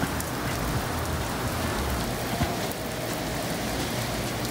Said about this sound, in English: As it begins to sideways rain.